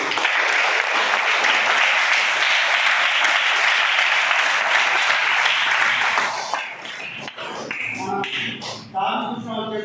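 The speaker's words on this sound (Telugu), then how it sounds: "ఒకసారి గట్టిగా చప్పట్లు కొట్టి" An audience at an event breaks into loud, dense applause that holds steady for about six seconds, then fades into scattered claps and background voices.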